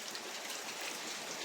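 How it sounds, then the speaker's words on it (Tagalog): Rain pours at a house construction site where roof work has stopped, a soft, continuous rushing hiss with no distinct voices. "naabutan kami ng ulan"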